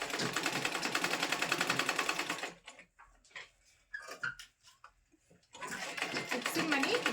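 Sewing machine running fast, stitching a thick seam on a blouse, a steady dense whir that stops for a few seconds of scattered clicks and handling, then starts up again.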